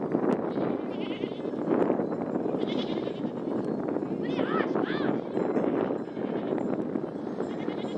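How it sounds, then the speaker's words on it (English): Sheep bleat a few times amid steady background noise and some talking, near Aleppo, Syria, the calls fairly clear around the middle. "Amazing, those sheep understand Arabic."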